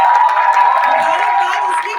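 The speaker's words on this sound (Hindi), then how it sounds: "हम तालियां बजा के प्लीज" Applause and cheering from an audience at a film press conference fill the room, a dense continuous wash of clapping that fades slightly at the end.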